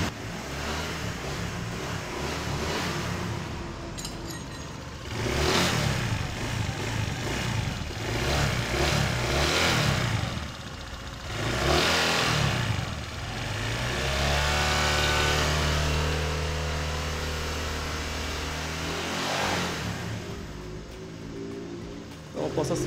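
A Honda PCX scooter engine revs freely with its drive belt disengaged: repeated close rises and falls in pitch, several surging bursts over a steady idle, with someone speaking at times.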